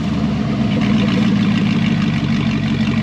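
A Chevy SS engine with its muffler removed, running steadily with a loud, close, continuous low rumble throughout.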